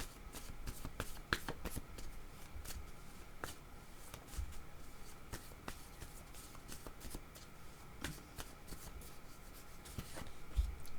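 Oracle cards are shuffled and drawn in a series of soft, quick riffles and flicks with irregular sharp card snaps, close and quiet.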